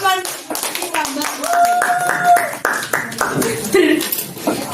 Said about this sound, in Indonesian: Berikan aplaus ke teman kita Mbak.